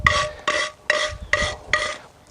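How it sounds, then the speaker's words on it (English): Wire brush scrubbing sand grains off a freshly cast concrete leaf, five short rasping strokes in an even rhythm, close and fairly quiet, with no talking. "I'm taking a wire brush and I'm just using it to try to tease out some of those sand grains"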